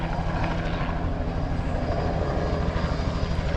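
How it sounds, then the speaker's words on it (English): Helicopter passing overhead near a garage workshop during an S13 240SX manual swap, a loud steady rotor and engine roar filling the whole clip without talk. "The helicopter's like right there."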